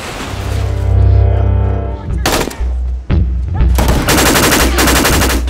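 Loud gunfire crackles in rapid bursts over a deep rumble, with sharp cracks and a heavy boom amid a dense, chaotic scene.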